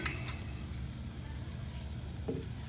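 NY strip steaks sizzle on a small Weber Smokey Joe charcoal grill, giving a steady close frying hiss that stays even for the whole stretch, with a faint tick or two and no voices.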